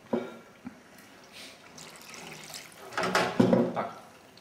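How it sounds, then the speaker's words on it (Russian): Water poured into a pan while making a Turkish salad, a short splashing trickle that swells louder near the end, close by and heard alone. "я добавлю еще немножко воды"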